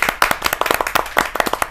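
An audience at a Hindi kavi sammelan claps to welcome a poet, a brisk, fairly close run of many hands beating in quick, uneven succession.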